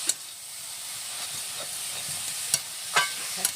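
Pea greens (mator shak) stirred in a pan with added water, giving a steady soft hiss and steam with occasional scraping clicks and a few sharper knocks near the end, no voices.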